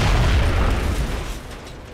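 Grenade explosion in XCOM Enemy Within: one loud, heavy boom with deep rumble that rolls out and fades slowly over about two seconds, with no talking.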